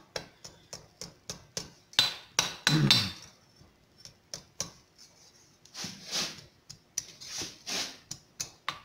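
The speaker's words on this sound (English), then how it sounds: "These delicate little taps here. Small cross peen I'm using." Small cross peen hammer striking hot copper on an anvil while forging a curl: a run of light, sharp taps in uneven bursts, close and clear, with a few heavier ringing blows.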